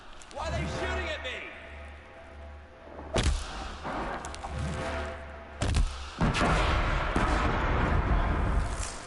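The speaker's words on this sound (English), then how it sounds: "Why are they shooting at me?" Enemies shooting at the player in the Horizon Zero Dawn video game: several sharp, loud bursts and impacts spaced a few seconds apart, mixed with rumbling game noise and talk.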